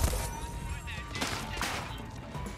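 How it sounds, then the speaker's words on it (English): Gunfire in the Deathloop video game, with bursts of shots cracking out amid a busy, dense game soundscape, several sharp reports spread across the short span under continuous background noise. "Where are the gunshots even coming from anymore?"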